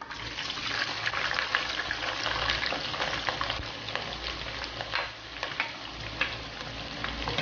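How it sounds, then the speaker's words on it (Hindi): Two chopped onions frying in oil for mutton biryani, a continuous dense sizzle and crackle heard close up, with light stirring pops throughout and no voices. "अब ऑयल में 2 कटे हुए प्याज ऐड करेंगे।"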